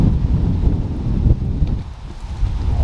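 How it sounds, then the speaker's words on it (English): Steady wind buffets an outdoor disc golf course, a broad, continuous rumbling roar that persists throughout with a brief dip near the end. "Oh, wind."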